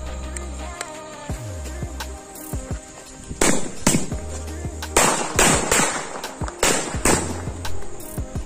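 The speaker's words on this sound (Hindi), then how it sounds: "नेक्स्ट हम चलाएंगे ये अनार प्लस कुर्बी बम।" Anar fountain firecracker combined with a bomb, hissing with sputtering bursts, then a series of loud sharp bangs and crackles close by, with no talking.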